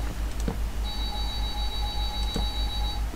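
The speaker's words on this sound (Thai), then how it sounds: "ลา ไป กับ เสียง นาฬิกาปลุก" An alarm clock rings in rapid pulsing bursts, a loud rhythmic electronic beeping that repeats steadily throughout, with no talk.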